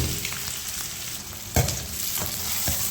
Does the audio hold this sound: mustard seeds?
yes